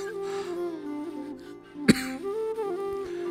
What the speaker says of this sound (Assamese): বেছিকৈ কথা ক'লেও কাহে ধৰে